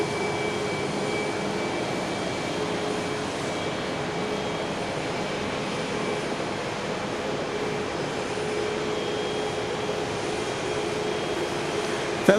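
A Southwest airliner departs Dallas Love Field, a steady distant jet rumble with a faint whine, holding an even level throughout.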